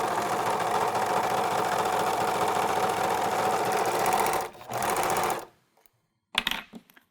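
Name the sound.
American Home serger running fabric through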